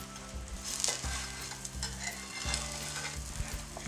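A cassava galette sizzles in about a tablespoon of hot oil over medium heat, a steady close frying crackle with stirring and scraping noises and brief louder bursts, no voices.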